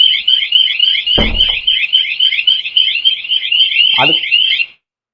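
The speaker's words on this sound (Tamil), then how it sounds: "நீங்கள் வந்து ரிமோட்டில் அன்லாக் பண்ணுற வரைக்கும் அலாரம் அடிச்சுட்டு தான் இருக்கும்" Piercing, warbling siren from a wireless home security alarm system blares continuously, briefly overlapped by a short voice twice, then cuts off abruptly just before the end.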